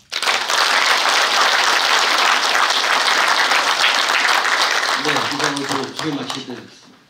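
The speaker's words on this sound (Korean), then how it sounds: "큰 박수로 오늘 태영호 의원님을 맞이해 주시기 바랍니다." Loud, sustained crowd applause greeting lawmaker Tae Yong-ho at a security lecture held by a federation of North Korean provincial residents, dense and steady before a voice begins speaking over it as the clapping dies away.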